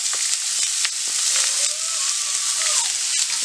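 Curry leaves and two medium-size onions frying in a pan, a loud, steady sizzle and hiss throughout with faint stirring scrapes.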